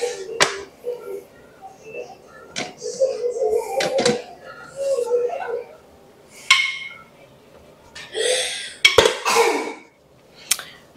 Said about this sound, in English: So now I'm gonna take the lid off.